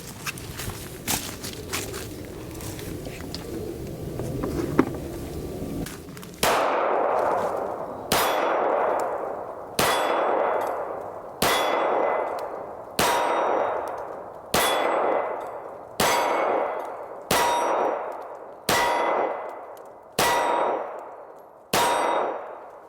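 About eleven sharp metallic clangs ring out at a steady rhythm as a Hellcat .380 pistol fires at steel targets, each ring decaying before the next, following several seconds of low rumbling background noise.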